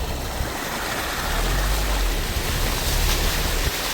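Storm runoff from a road pours into a creek paddock on a Wheatbelt farm, a dense, loud, continuous rushing roar of water with low wind buffeting and no pause.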